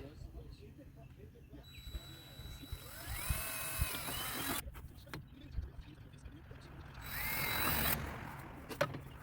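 A power drill with a 7/32 bit bores holes for decorative shutters, its whining motor rising in bursts around the middle and again near the end, with background noise and a voice heard.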